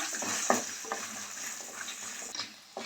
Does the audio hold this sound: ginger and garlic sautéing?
yes